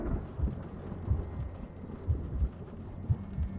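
Distant storm thunder rumbles low and faint in repeated soft booms over a quiet background, with a hint of rain and wind.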